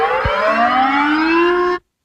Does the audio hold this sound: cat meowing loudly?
no